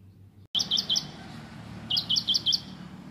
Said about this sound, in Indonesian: di taman ini juga banyak burung-burung ya yang membuat sarangnya di pepohonan yang ada di taman saya ini